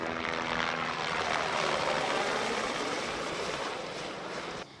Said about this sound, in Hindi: आपको रास्ते में कई हेलीकॉप्टर देखने को मिलेंगे। देखिए वो आ रहा है